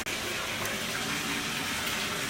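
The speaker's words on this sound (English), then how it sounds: "now I'm letting the tub fill back up a little bit with just plain" Plain cold water gushes from a tap into a bathtub, a steady, loud, close rushing splash that continues without pause and without speech.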